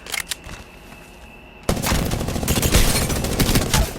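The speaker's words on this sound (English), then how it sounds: "I'm missing all my shots." Automatic gunfire in the video game Apex Legends: a few sharp separate shots, a short lull, then a sudden loud sustained burst of rapid fire that runs without a break to the end.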